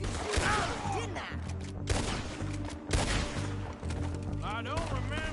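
Rapid gunfire in Red Dead Redemption 2, a series of sharp cracking shots spread across the scene, close and loud, layered with steady background rumble and game sounds.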